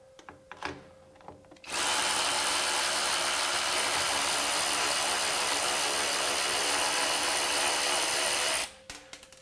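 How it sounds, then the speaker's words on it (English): A SKIL PWRCORE 12V brushless cordless ratchet runs a 12 millimeter nylock nut off a bolt, a loud, steady high-speed motor whir lasting about seven seconds, with a few clicks before it starts and after it stops. "we'll see if it can run that nylock fastener all the way off"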